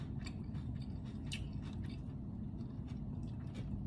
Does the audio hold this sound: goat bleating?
no